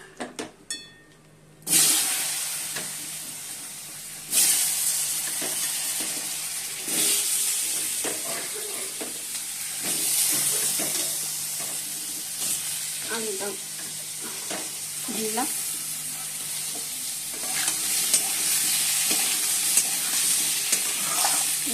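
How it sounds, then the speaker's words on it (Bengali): Potatoes tossed into hot oil seasoned with cumin burst into a loud, close sizzle that holds steady, with repeated stirring scrapes and clinks of a spatula on the pan; no talking. "লাল লাল করে আলুটা ভেজে নেবো"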